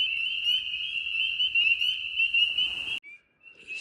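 Frog calling along an Appalachian backpacking trail: a loud, steady high-pitched trill runs nonstop for about three seconds before cutting off, leaving near silence with a faint hiss.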